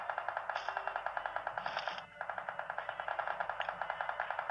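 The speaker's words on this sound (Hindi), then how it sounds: "अब जो ये फायरिंग हो रही है इसको जस्ट आप नोट करो" Rapid automatic gunfire in a video game crackles in a steady fast rhythm, nearly continuous with one brief pause midway, moderately loud and heard alone.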